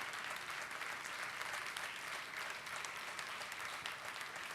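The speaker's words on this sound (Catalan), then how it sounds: "Fort aplaudiment pel senyor Antoni Bassas." Sustained, dense applause from a large audience at an awards gala, steady and fairly distant throughout with no talk over it.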